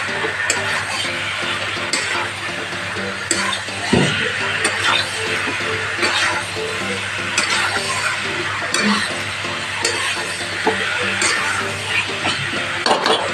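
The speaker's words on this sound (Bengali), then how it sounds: "ভালো করে মিক্স করে নিচ্ছি এটা আমি" Spices being stirred and mixed in a hot pan for mango chicken, with continuous scraping and clinking of a utensil against the pan over a steady sizzle, close and fairly loud, no talk.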